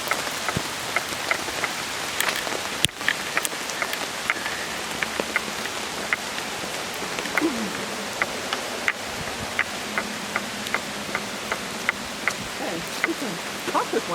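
Rain falls steadily outdoors during a walk, a constant fine hiss with scattered drop ticks throughout, and faint insect-like buzzing in the background.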